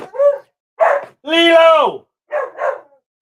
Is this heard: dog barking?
yes